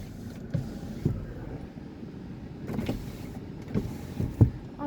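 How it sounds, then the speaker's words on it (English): Power windows of a 2018 Lincoln MKX whir down and back up in several short motor runs with soft thumps as the glass stops, heard close inside the quiet cabin. "Let's make sure windows roll down, windows roll up."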